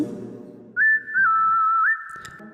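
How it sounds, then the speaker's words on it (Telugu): A keyboard's whistle voice plays a short phrase of a melody, a clear, steady tone with a few quick pitch slides, following a brief stretch of low keyboard notes and ending abruptly. "తర్వాత మళ్ళీ చిన్న విజిల్ వాయిస్"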